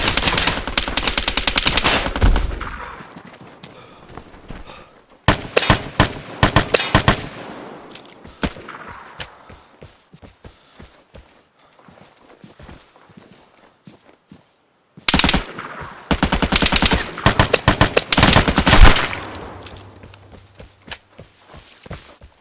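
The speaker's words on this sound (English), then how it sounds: "gunshots attract players" Bursts of automatic gunfire and single shots in the survival shooter Vigor, arriving in loud clusters separated by quieter stretches of footsteps and movement, with a final heavy volley near the end.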